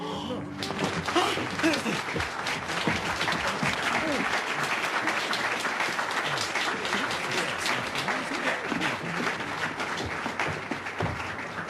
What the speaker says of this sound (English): the rousing cheer that he knows you're going to give him for his performance this evening